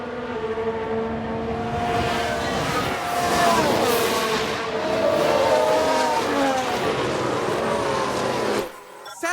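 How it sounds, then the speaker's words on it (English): Formula 1 car from F1 Manager 22 spinning off and crashing during a race, with a loud, steady engine whine and shifting tire tones holding for most of the stretch before abruptly cutting out near the end; commentary-like voices run beneath. "Sounds like we've had a spin."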